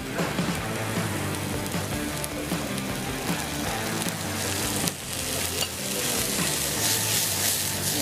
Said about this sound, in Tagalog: Gigisa lang natin ng mabuti. Sibuyas pa lang masarap na.